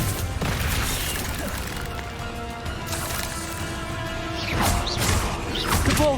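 Confringo explosive spell blasts cast in the Hogwarts video game, a dense run of whooshing bursts, booms and crashing impacts with a rising swell near the end, loud and close over busy game sound.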